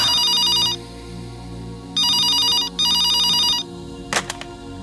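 A telephone rings in a Tamil television drama, giving three bright electronic trills separated by short gaps over a low background hum, followed by a brief clatter.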